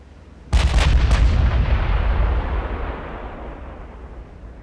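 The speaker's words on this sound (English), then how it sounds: "A battleship firing?" A battleship gun salvo in the naval strategy game Ultimate Admiral: Dreadnoughts: a sharp, heavy boom with a second crack just after, then a long low rumbling decay that fades over several seconds, loud and with no speech.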